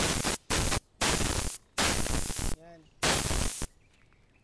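Spray paint hisses in short test bursts before a Honda Wave 125's fairings are painted: about five loud, broadband blasts separated by brief pauses, close by, with faint squeaky tones between them and a quiet tail.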